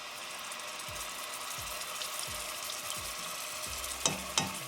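Ginger, garlic and green chili paste frying in hot oil with cumin seeds for a pork tenderloin curry, an even close sizzle with soft rhythmic stirring strokes and two sharper scrapes near the end.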